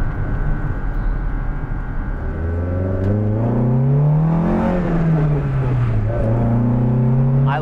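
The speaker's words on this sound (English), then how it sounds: "I like that throaty sound." The carbureted engine of a 1985 Honda Civic revs up and back down, a throaty rising and falling engine note heard close over steady idle rumble.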